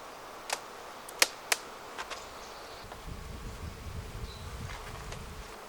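Honey bees buzz around an open hive as they store honey, a continuous low drone with a few sharp close passes of individual bees near the start, no voices.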